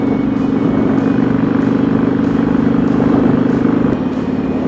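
A motorcycle on a quick road ride under blue skies, its engine a loud steady close rumble with constant drone throughout and no talking.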